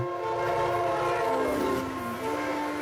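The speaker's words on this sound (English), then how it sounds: "the sound of a passing train" A train rumbles past with a steady low roar and a long sustained horn tone, continuous and fairly loud throughout.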